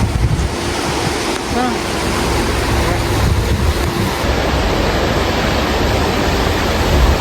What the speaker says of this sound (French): L'eau arrive de là-bas, puis ensuite elle se sépare en deux.